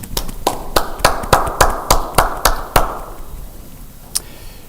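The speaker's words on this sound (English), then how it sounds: "Please join me in applause for everyone who helped make tonight possible." Scattered hand claps from a gala audience, a dozen or so sharp claps in a loose rhythm that thin out and fade, ending with one last isolated clap in a quiet room.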